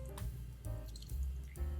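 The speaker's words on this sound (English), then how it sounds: "120 ml of water to the rinsed rice" Water is poured into rinsed rice in a pot, giving a soft, low splashing and trickling with faint drips, quiet and close, with no talking.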